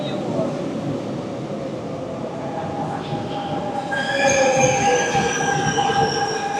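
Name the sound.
double-decker train in the Paris metro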